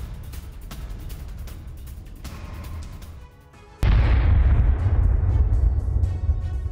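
Heavy explosions and gunfire during a Ukrainian Third Assault Brigade attack on Russian posts in the Donetsk region, with a steady rumble of fire that breaks into a loud, close blast followed by a long booming decay.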